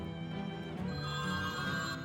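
A telephone rings in the adventure game Shadows Over Loathing, a steady, tonal electronic ringing that is fairly loud and close and repeats throughout with no talking over it.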